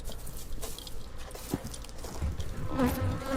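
A swarm of angry stinging insects buzzing and attacking near a septic area, a dense droning hum with insects whizzing close past, growing louder toward the end amid faint rustling.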